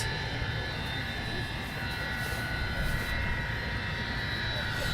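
An Avro Vulcan XL426 jet bomber taxiing on its 60th birthday run gives a loud, steady engine roar that holds without a break, with people talking over it.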